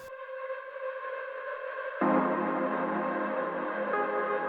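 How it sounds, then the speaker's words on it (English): Sustained synthetic tones layered in bright bands, shifting to a denser, fuller texture partway through, with no voices present. "And then I added some tonal effects like this."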